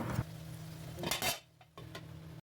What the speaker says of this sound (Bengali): ছলাটা দেওয়ার পর কিছুক্ষণ ধরে নাড়তে থাকবো